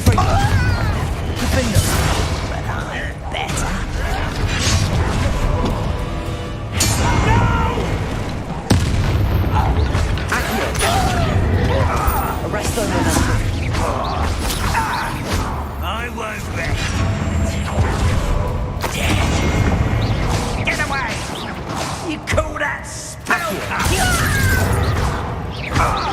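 Repeated blasting spell explosions in the wizarding game Hogwarts Legacy, a string of loud booms and crashes spread across a long stretch of combat, with a voice talking intermittently between them.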